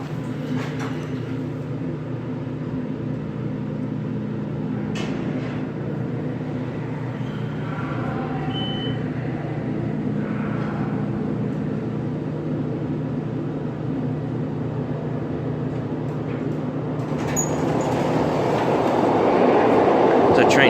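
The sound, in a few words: light rail metro train approaching station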